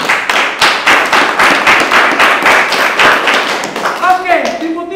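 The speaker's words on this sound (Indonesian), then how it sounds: "Tepuk tangan untuk tim putih." An audience at an Indonesian Independence Day quiz show claps for a team, a loud, fast, steady round of applause lasting several seconds, with a voice beginning to speak near the end.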